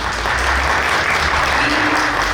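A school parents' meeting audience gives teacher Juan Pablo a strong round of applause, dense and loud, sustained evenly from start to finish.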